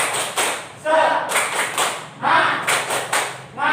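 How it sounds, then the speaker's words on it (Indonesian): A classroom of students stands and performs a rhythmic spirited clap routine, bursts of many hands clapping together in a patterned beat, mixed with voices chanting along. "Kita bertepuk semangat"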